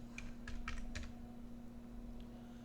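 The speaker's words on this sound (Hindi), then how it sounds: "इसे टाइप कर दीजिए।" A visual code is typed on a computer keyboard: a quick burst of soft keystrokes, then a short pause and a single last tap, all quiet over a faint steady hum.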